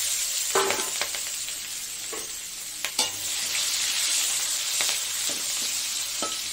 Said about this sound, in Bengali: আর কুচনো পেঁয়াজগুলো দিয়ে দিলাম